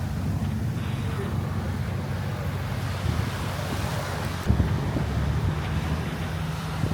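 A steady low engine rumble from a passenger boat on the sea off Koh Tao, Thailand, mixed with washing waves and gusts of wind buffeting the microphone.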